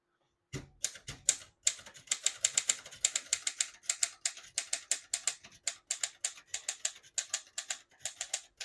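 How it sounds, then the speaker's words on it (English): A 1938 Corona Junior Model S portable typewriter types out a sentence: a quick, steady run of crisp mechanical key strikes, close and clear, with brief pauses between words and no voices. "We're going to keep that on single for now and type a sentence on this next line."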